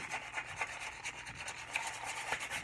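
Sandpaper rubbing along a wooden axe handle on a Husqvarna carpenter's axe, a soft, steady rasping with regular back-and-forth strokes, close and fairly quiet, no talking.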